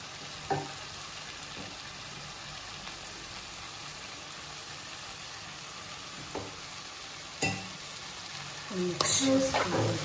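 Cashews and onions sizzle steadily in a pan for a cashew and paneer curry, with a few scraping stirs and clatters near the end; the frying stays fairly soft and even.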